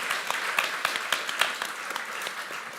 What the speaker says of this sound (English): applause to our performers,